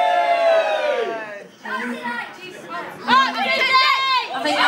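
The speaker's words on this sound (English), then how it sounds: "Give me a cheer for cheese" An audience at a live show cheers and yells, with chattering voices swelling and dipping and a louder burst toward the end.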